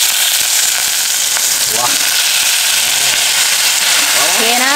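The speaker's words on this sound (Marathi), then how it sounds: "हे ना नुसतं तेलात आणि मसाल्यामध्ये परतलं ना आणि शिजवून घ्यायचं" Food sautés in hot oil and spices at a Thar desert campsite, giving off a loud, continuous sizzling hiss with faint chirping tones throughout.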